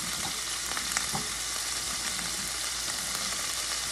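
Garlic frying in oil for adobong kangkong, a continuous close hiss of sizzling with light stirring clicks and no talking.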